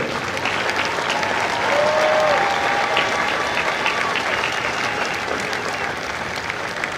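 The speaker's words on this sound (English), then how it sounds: "please join me in a round of applause for the company staff of Company J" Sustained audience applause fills the space at a Marine Corps recruit graduation ceremony at MCRD San Diego, a steady dense wash of clapping lasting throughout, swelling slightly around the middle with a brief whistle.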